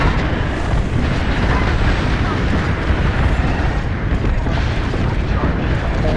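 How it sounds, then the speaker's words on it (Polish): Artillery shelling in the Apex Legends video game, a dense continuous rumble of heavy booming blasts, loud and close, rolling without a break. "O Boże, to był ostrzał."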